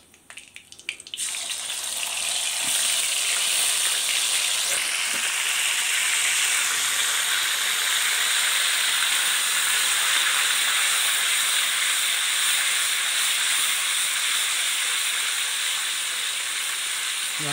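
Ginger garlic paste dropped into hot oil with cumin seeds sizzles loudly, a bright steady hiss that flares up after a second and holds strong and unbroken throughout.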